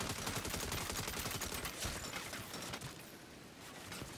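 Rapid turret gunfire from the Saints Row video game, a dense, loud stream of overlapping shots and bursts that carries on steadily through the whole stretch.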